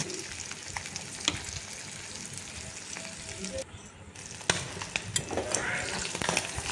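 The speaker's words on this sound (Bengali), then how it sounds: "কড়াইতে তেল গরম করে কিছু কিছু করে মাছ দিয়ে দিচ্ছি।" Small fish frying in hot oil in a wok give a steady, close sizzle dotted with sharp crackles and spattering pops.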